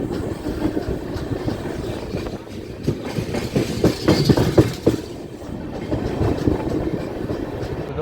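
The Danapur - Pune SF Express rolls along the tracks past Itarsi Junction, a steady rumble of wheels with clattering rail joints building louder midway, heard from inside the train.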